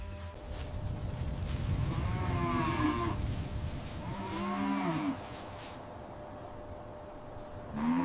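Angus cattle on a high-tech beef farm low in two long, drawn-out moos, one after the other, fairly close over steady farmyard background noise and with no talk.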